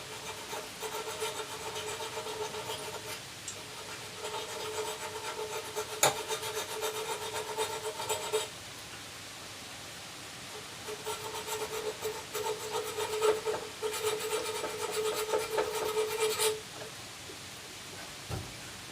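Flat file rasping on a metal Citroën 2CV exhaust, a steady run of rhythmic scraping strokes for several seconds, a brief pause, then another stretch of close, moderately loud filing.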